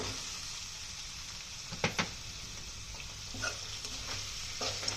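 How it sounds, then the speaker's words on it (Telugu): Pre-boiled raw banana pieces tipped into a frying pan with toasted coconut powder, sizzling steadily with a few scraping stirs and soft clatters throughout. "ఇది బాగా వేగాక మనం ముందుగా ఉడికించి పెట్టుకున్న అరటికాయ ముక్కల్ని దీంట్లో వేసేస్తున్నానండి."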